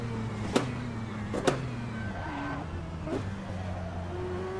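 A Mazda 787B rotary-powered race car drones steadily from inside, its engine pitch holding and shifting through gear changes under a constant roar, with a couple of sharp clicks.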